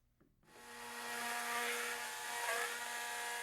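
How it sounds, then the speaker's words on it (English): A plunge router cuts a recess into a cherry wood frame, starting up after a brief click and settling into a steady, close, high-pitched whine with a rough cutting edge, heard without voices. "We route out the recess with our plunge router, making cuts in a clockwise motion, slowly notching out the stock"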